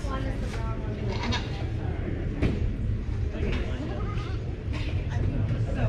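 Dairy goats bleat repeatedly at a 4-H/FFA dairy show at a county fair, several short calls rising over a busy indoor background while people talk throughout.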